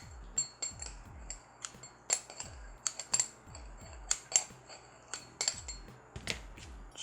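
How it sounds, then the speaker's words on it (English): Small scissors snip moss in a dense terrarium, giving sharp, close, irregular clicks and snips with short pauses and faint rustling between them. "I actually think I can trim it with some scissors"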